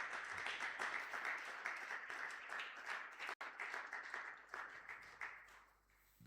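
Church congregation applauding through a Sunday praise and thanksgiving service, a dense, steady wash of many hands clapping that fills the room, with a brief cut midway and the clapping thinning toward the end.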